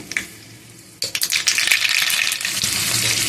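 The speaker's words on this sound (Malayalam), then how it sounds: "കുറച്ച് എണ്ണ ഒഴിച്ച് അതിലേക്ക് കടുക് പൊട്ടിക്കാം" Mustard seeds spluttering in hot oil for a Malayalam beetroot and potato curry, starting quiet and then breaking into a dense run of sharp popping crackles with steady sizzling from one second on, close and fairly loud, with no voices.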